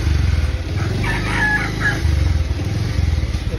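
A rooster crows once, loud and close, over the steady rumble of a passing motor vehicle on a rough rural road.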